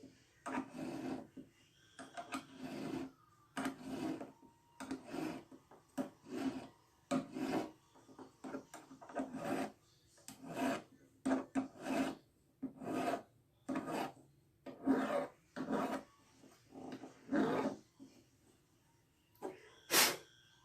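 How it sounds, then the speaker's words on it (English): A hand file rasps back and forth inside a metal ring blank, roughly two dozen short, even strokes in a steady rhythm, close and fairly quiet with no talking. "This filing this way, you're gonna want to be a little more careful."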